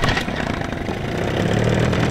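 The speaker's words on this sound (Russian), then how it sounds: "Мотор такой легенький, удобный." A small, light outboard motor on a fishing boat runs steadily on an autumn lake trip, a continuous mid-pitched engine drone close by with no talking.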